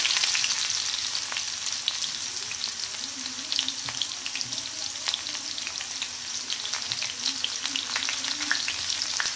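Finely chopped onion frying in oil with spluttered mustard seeds and cumin for an okra masala curry, a continuous moderate sizzle with small crackles and faint stirring, no voices.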